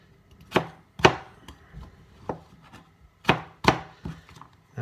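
A knife slices organic potato on a chopping board for a Cornish pasty, with about seven or eight crisp, separate knocks. The cuts come at an irregular pace, close and clear, with no voice over them.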